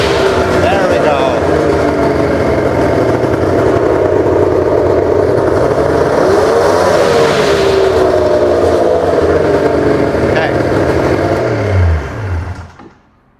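A cheap snowmobile engine revs loudly and drives close by, its buzzing drone rising and falling steadily before cutting out abruptly near the end, with a voice briefly heard over it.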